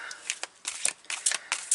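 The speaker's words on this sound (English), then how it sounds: "I'm going to shuffle them this way" Tarot cards being shuffled by hand, giving a quick run of crisp, rapid riffling flicks and slaps, close and fairly loud, with no talking.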